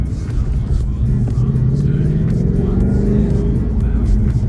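A deep, throaty Ford Mustang GT 5.0 V8 engine rumbles close by, revving slightly with a steady low growl throughout.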